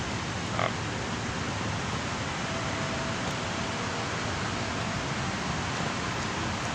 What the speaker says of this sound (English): Just a little mild drizzle here.